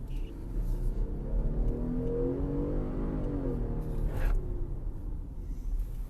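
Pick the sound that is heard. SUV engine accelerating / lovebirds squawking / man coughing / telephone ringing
SUV engine accelerating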